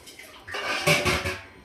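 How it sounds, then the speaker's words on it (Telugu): Water poured into a pot of sambar, a short splashing rush lasting about a second that swells and then tapers, close and fairly loud. "ఇప్పుడు నేను వాటర్ యాడ్ చేస్తున్నాను"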